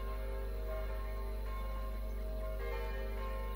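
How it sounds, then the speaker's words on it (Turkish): A bell rung in the video game Kingdom Two Crowns, a sustained ringing tone with lingering overtones that holds steady and fairly faint beneath a constant low hum, no speech. "Çanı çaldırdım, binmiyorlar kanka."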